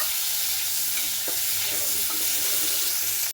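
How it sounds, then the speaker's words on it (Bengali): Cut potatoes frying in hot oil for a Bengali raw-banana dish give a loud, unbroken sizzle, with a few faint stirring knocks beneath the hiss. "আলুটাকে হালকা করে ভেজে নেবো"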